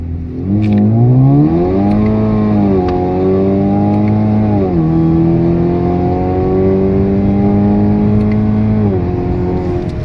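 A tuned 2017 Chevrolet Camaro with a turbocharged four-cylinder engine accelerates on the street, engine note rising steadily through the revs with brief dips at gear shifts, loud and close from inside the car.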